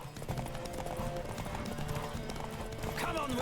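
A horse gallops in The Witcher 3, its clip-clopping hooves pattering quietly under a busy game soundtrack and ambience, with a brief whinny-like sweep near the end.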